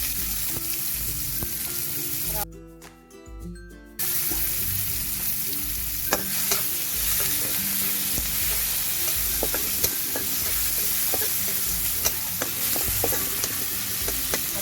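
Tomatoes sauté in hot oil in a pan over a wood-fired stove. A steady, close sizzle is broken by stirring and small scraping clicks, with a brief dip in the frying noise early on.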